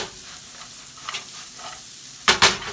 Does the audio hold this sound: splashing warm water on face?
no